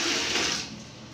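Water is poured to clean a toilet in a bathroom, a brief close rushing splash that fades out after about a second.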